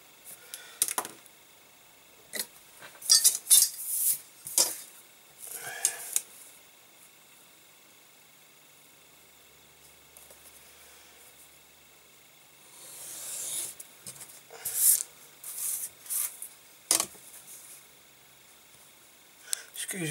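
Intermittent scraping and rubbing as a craft knife cuts out the outside piece of a custom tooled leather wallet, close and uneven in short bursts, with a voice talking at points.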